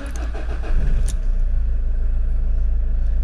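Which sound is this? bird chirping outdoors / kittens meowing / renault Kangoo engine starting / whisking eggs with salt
renault Kangoo engine starting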